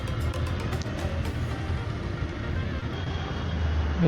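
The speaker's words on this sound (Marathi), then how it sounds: "कोणाचा आवाज येतो एवढा? काकांच्या गाडीचा आहे." A loud engine from another vehicle on the road runs steadily nearby, a continuous rumbling drone that holds for several seconds with no talking over it.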